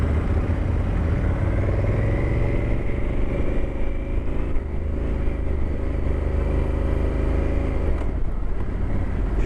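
A Honda motorcycle with a quick shifter rides off, its engine droning loudly and steadily close by with a continuous rumbling hum and wind noise throughout.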